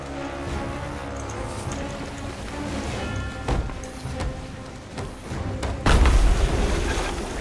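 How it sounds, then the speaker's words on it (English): A deep explosion booms in the pirate ship game Sea of Thieves aboard a brigantine, a low rumbling blast rising abruptly near the end over continuous game ambience of sea and creaking ship. "An explosion again."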